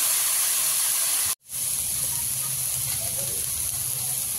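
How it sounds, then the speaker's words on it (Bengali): Eggplant frying in hot oil with salt and turmeric, a steady broad sizzle and hiss that briefly cuts out, then resumes as a continuous close frying sound. "এই যে নুন দিচ্ছি, নুন আর হলুদ দিয়ে বেগুন ভাজি"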